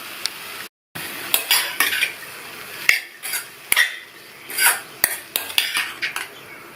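A utensil scrapes and clatters against a pan while stirring a ridge gourd and chana dal stir-fry with the stove switched off, giving loud, irregular metallic strokes close up with no talking.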